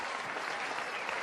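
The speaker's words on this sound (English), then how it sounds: "I'm clapping for you because that's amazing." Steady hand clapping from a single person, dense and continuous for a moment, close and fairly quiet, with no voices over it.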